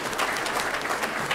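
Short burst of audience applause at a public talk on Chicago city finances, steady broadband clapping at moderate loudness lasting just over a second.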